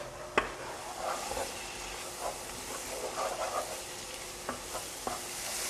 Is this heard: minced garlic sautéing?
yes